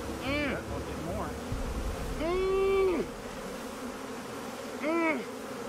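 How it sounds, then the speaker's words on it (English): A swarm of honeybees crawling over a person wearing a bee beard, with loud buzzing that swells as individual bees fly close past and then fades, over a steady background drone. "There are a lot of bees on me?"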